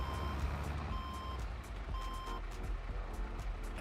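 A truck in the farming game Farming Simulator 22 backs up with its reversing alarm beeping steadily in regular pulses over a constant engine rumble.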